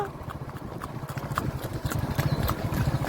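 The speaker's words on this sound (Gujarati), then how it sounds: "અને તાજણ તો ઊભું રહેવાનું નામ જ નથી લેતી સુસવાટ જ કાઢ્યા જાય" Kathiawari mare's hooves pound the ground during a horse race, a fast rhythmic clip-clop drumming close by and growing louder, with engine hum and wind noise underneath.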